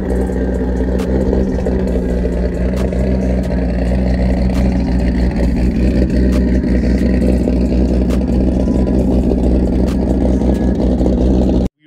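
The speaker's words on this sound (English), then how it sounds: "we were previously running the JWT C9 cams that just gave that insanely deep, gargly kind of idle tone" A Nissan G35 engine fitted with JWT C9 cams idles with a deep, gargly, lumpy tone, loud and steady throughout with no talking over it.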